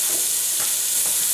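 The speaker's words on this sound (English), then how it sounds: "then I can add my chopped onions, and I will saute the onions" Chopped onions sauté in grapeseed oil in a pan, giving a steady close hiss and sizzle with a couple of soft stirring scrapes, no voices.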